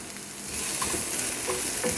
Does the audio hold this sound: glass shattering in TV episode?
no